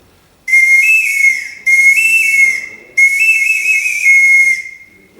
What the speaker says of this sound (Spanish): se pueden construir algunos instrumentos sencillos como silbatos